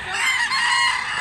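A rooster at a fowl sale in Mantalungon, Barili, Cebu gives a single loud, close crow that fills the short moment on its own.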